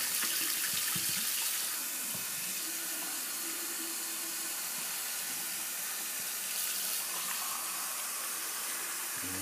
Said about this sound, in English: I'm just gonna put a little more hot water and warm my scuttle up a little more.